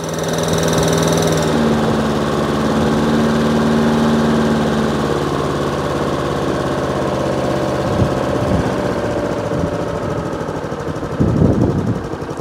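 A Hayter 48 lawn mower's petrol engine idles steadily and close by, a continuous buzzing drone with a brief clatter near the end, and no voices.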